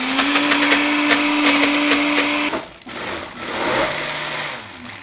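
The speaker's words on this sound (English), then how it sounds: "We're just going to blend." A blender purées parsnip and apple with a loud, steady motor whine for about two and a half seconds, then stops, leaving quieter kitchen clatter and rustling.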